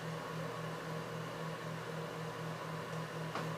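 An electric oven runs in bake mode at 250 degrees, giving off a steady low hum with a soft fan-like hiss that stays even throughout, with no voices.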